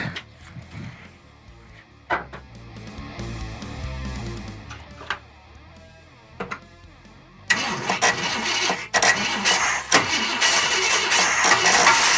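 A 1966 Ford Thunderbird barn find, sitting for 20 years, cranks over unevenly with several stumbling attempts before the engine catches and roars up loudly, running rough and strong.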